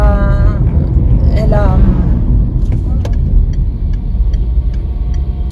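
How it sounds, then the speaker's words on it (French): A car's engine rumbles loudly up close on a country road with a tractor cutting roadside grass nearby, a steady low drone under a person talking throughout. "il y a un tracteur qui coupe les herbes et une voiture qui arrive en face"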